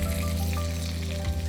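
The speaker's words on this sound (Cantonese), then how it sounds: "炸完茄子嘅鑊咧，我留翻少少咁多油，將啲雞髀肉咧入去煎一煎佢。" Chicken thigh pieces pan-frying in a little leftover oil in a wok just used for deep-frying eggplant, giving a steady close sizzle with low crackle throughout and no talk.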